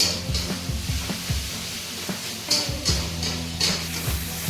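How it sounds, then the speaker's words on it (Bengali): Steady sizzling of onion and ginger-garlic paste frying in hot oil, with intermittent scrapes and clinks of stirring throughout. "এই যে মোটামুটি এখন পেঁয়াজটা আর আদা রসুনের পেস্টটা মোটামুটি ভাজা হয়ে গেছে"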